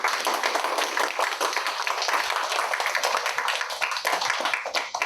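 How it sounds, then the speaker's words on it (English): Steady applause from an audience at a career expo speaker event, dense overlapping hand claps filling the room without pause, fairly loud and close. "please give a big round of applause."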